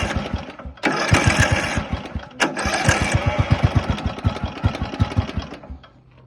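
A Cub Cadet zero-turn mower's small engine runs close by with a steady, rapid chugging pulse, briefly dipping and then picking up again as the throttle rises, with no talk over it.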